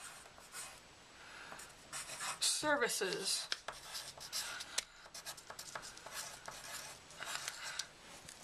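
A pen scratches across paper in short, quick strokes while lettering a title for a handmade money-making flyer, close and fairly quiet, with a brief spoken word partway through.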